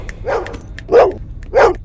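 A dog barks three times in short, loud bursts, spaced unevenly, with a softer whine-like bark at the start and no talking.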